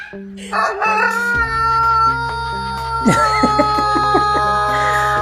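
Rooster crowing loudly and close, one long drawn-out cock-a-doodle-doo followed by a second crow, with harmonic tones running through and no talk.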